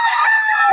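Short, close rooster crow at the Bocaue market, a single loud, bright call held briefly and cut off.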